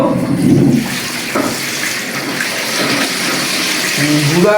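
Water pours and gushes steadily into a cooking pot for a hilsa fish curry, a loud continuous splashing rush with a faint voice underneath.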